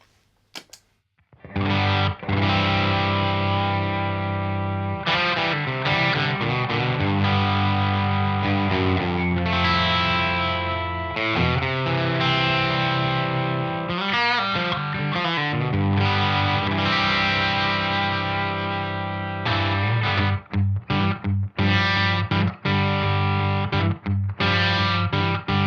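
An electric guitar played through an Ivison Hurricane '59 amp, overdriven and sustained, with ringing distorted chords and short note runs, loud and close with no voices.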